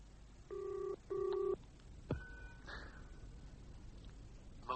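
A telephone is dialed, two short bursts of steady dial tones followed by a sharp click and a faint electronic tone, quiet against a hissy background with no voices.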